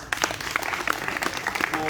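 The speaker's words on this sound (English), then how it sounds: "another round of applause for" Audience applause at a book launch for a university student activist's book, a steady crowd of hands clapping close and loud, with voices and cheers mixed in under it.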